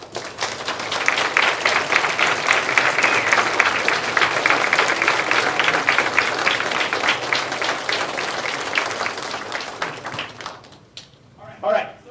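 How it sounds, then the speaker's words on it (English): A room full of people at a university speech showcase applauds loudly and steadily for about ten seconds, then the clapping dies away and a voice speaks briefly. "please stand up so we can give you a round of applause"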